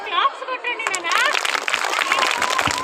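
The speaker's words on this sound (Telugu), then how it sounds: "Big claps." Applause from a school audience at an annual day awards distribution, with dense clapping throughout while voices talk over it.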